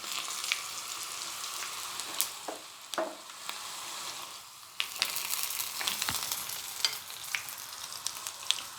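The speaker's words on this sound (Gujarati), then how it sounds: "આ વઘારને આપણે ખાંડવી ઉપર રેડીશું" A hot tempering of oil and sesame seeds poured over Gujarati khandvi, crackling and sizzling continuously with sharp pops and brief surges, close and fairly loud with no talk.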